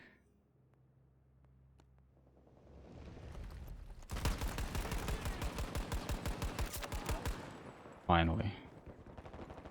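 Rapid burst of about twenty evenly spaced shots from a weapon in a tank video game, loud and close, lasting several seconds before stopping abruptly, with a brief spoken word afterward.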